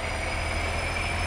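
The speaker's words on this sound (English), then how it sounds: "Oh, I love that engine sound file." A semi truck engine from a Farming Simulator 19 mod drones steadily and loudly, its low, even rumble holding constant throughout with no speech over it.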